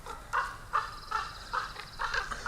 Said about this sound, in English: erupted in aggressive raptor calls